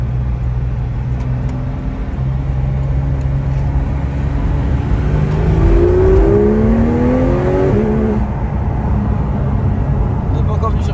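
Porsche 911 GT3 engine heard from inside the cabin, a steady loud drone that climbs in pitch as it revs up in the middle stretch, then eases back.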